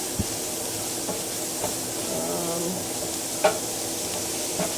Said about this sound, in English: At this point, I'm gonna add the cauliflower to the onions.